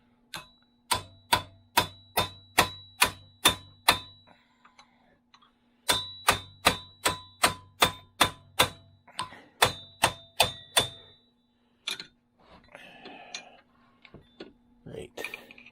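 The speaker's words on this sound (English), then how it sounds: "Cold chisel." A hammer strikes a cold chisel on an Oldsmobile Cutlass rear axle in sharp, ringing metallic blows, two runs of about eight evenly spaced hits each, then quieter handling clatter.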